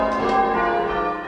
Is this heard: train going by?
no